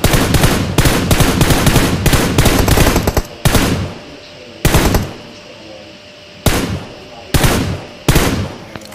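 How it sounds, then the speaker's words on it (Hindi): Automatic gunfire in the mobile battle royale game BGMI: loud rapid bursts of shots in the first few seconds, then shorter separate bursts with gaps between them, close and sharp. "एक बंदा यहाँ से गोली चला रहा है"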